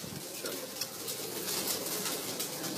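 Racing pigeons coo softly amid a loud, hissy outdoor background, their low murmurs faint and repeated.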